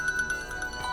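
A mobile phone rings with a steady electronic tone and soft pulses repeating about every tenth of a second, moderately quiet, with no voices over it.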